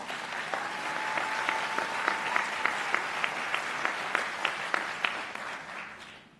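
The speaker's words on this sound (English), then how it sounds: "let's give these students another round of applause" An audience at a university portrait unveiling gives a round of applause, a steady crowd clapping with a few sharper individual claps standing out, tapering off at the end.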